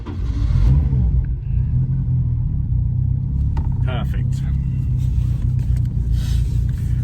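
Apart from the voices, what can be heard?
Ford Cortina Mk5 turbo Pinto engine starting and running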